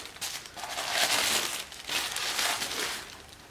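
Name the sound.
unwrapping a gift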